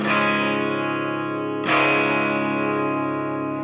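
Two sustained clean electric guitar chords from a Fender Telecaster, with no compressor, ring out, the second struck around the middle and left to decay slowly, with no voices.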